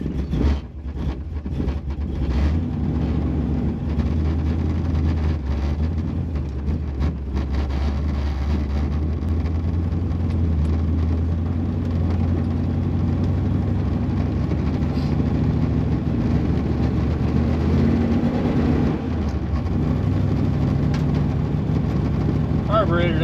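Car engine running steadily while driving, its carburetor loading up and running rich, a continuous loud low rumble throughout with no talk over it.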